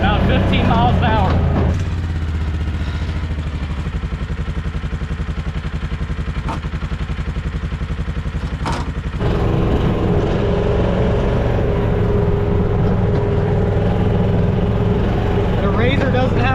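A Kawasaki Mule side-by-side runs flat out at around 15 mph, its engine a loud, steady close-up drone with a gear change early on and a rise in pitch partway through, with someone talking over it.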